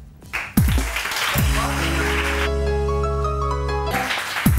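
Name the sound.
studio audience applause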